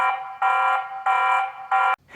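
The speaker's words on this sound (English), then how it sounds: "if you happen to set this to be an alarm and somebody walks in, you'll get sound and lighting that look very much like this" A TP-Link Tapo C110 indoor security camera sounds its alarm siren: three loud, harsh electronic buzzing blasts in quick succession, close and piercing, with short gaps between.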